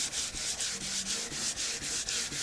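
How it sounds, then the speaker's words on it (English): Wet sanding a wardrobe finish, sandpaper lubricated with paint thinner, a smooth hissing rub in steady back-and-forth strokes with brief dips between passes, close and continuous. "I'm just looking to sand down all the high points of this finish"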